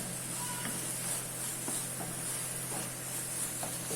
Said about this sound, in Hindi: इसको हाई फ्लेम पे 2 से 3 मिनट तक अच्छे से मिक्स कर लेते हैं।